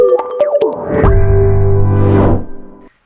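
A notification bell effect: a loud bright chime with a swooshing sweep that rings out in a sustained tone, then fades and cuts off, with no talking.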